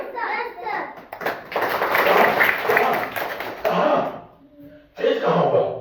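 Children at a village primary school clap together in rough bursts of hand claps, mixed with their chatter and an adult's voice, loud and close with short pauses between rounds.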